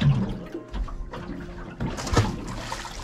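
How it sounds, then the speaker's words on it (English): A snapper released from a boat splashes into the water, producing a few sloshing, splashing bursts close by amid ongoing water noise. "Down he goes and splashed myself then."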